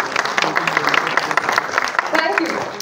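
A crowd at a film trailer launch applauds the media representatives, with dense, steady clapping throughout and a murmur of voices mixed in.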